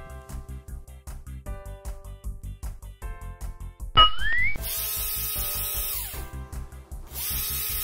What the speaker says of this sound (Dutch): Ik neem beter mijn boormachine